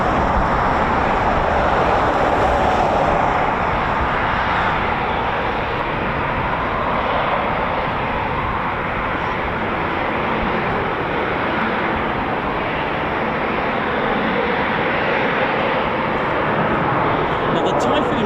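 A Eurofighter Typhoon FGR4 jet flies at RAF Coningsby, its engines a loud, dense continuous roar holding steady throughout, with someone talking over it.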